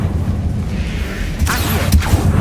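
The Confringo fire spell in Hogwarts Legacy goes off as two quick, sharp blasts in close succession over a low, rumbling game background.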